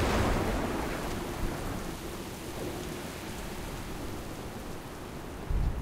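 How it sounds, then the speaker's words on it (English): Thunderstorm in World of Warcraft's Exile's Reach zone, aboard a ship: steady heavy rain hiss with low rumbling thunder throughout, and a fresh deep thunder surge near the end, no voices. "Captain, we can't weather this storm for long."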